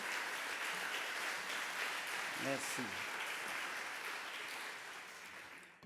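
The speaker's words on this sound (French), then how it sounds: "Je pense que ça mérite un applaudissement" Audience applause at the official opening ceremony of an APF Bureau meeting in Papeete, a loud, steady wash of clapping from a large hall that fades near the end, with a brief spoken word over it.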